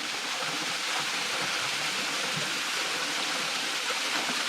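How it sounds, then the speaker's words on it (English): A roughly 40 to 50 foot waterfall pours into a deep pool beside a narrow creek, making a steady, close, dense hiss of falling and rushing water with no pauses. "so I made it to the waterfall"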